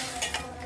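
A brief scrape of a spoon stirring curry in a pan over a low sizzle, two quick strokes in under a second, close and fairly loud.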